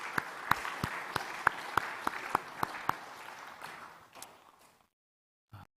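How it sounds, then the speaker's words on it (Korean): A church congregation claps together in a steady rhythmic beat for several seconds, then the applause trails off into silence. "박수로 잘 먹겠다고 인사합시다"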